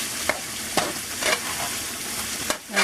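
Potatoes seasoned with Lawry's seasoning sizzle steadily in a frying pan as home fries, with several scraping stirs of a utensil breaking through the constant close frying hiss.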